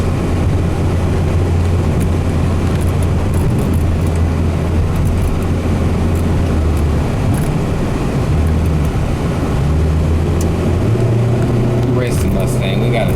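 Mazda 323 Familia from a single owner, driven on a road test; a steady low engine and road drone carries throughout, with a voice talking over it.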